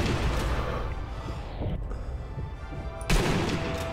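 Sustained gunfire in the Sniper Elite V2 video game, fired at a lantern: a dense, loud wash of shots and rumble that briefly thins before a sharp burst near the end.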